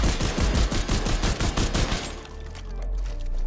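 Rapid automatic gunfire in The Division 2, a loud burst of closely spaced shots for about two seconds, then trailing off into a rumble and a fainter tail.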